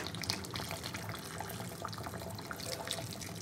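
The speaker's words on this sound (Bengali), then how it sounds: "এবার পরিমাণ মতন মাংসে গরম জলটা দিয়ে দেবো।" Hot water poured into a pot of braised meat, a steady faint splashing and trickling of liquid with no talk.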